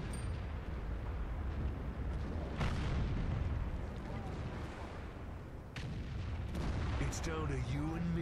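Tank cannon fire in the World of Tanks game, from an ST I heavy tank, heard as heavy booming blasts over a dense rumbling engine and battle din, with a player talking over it.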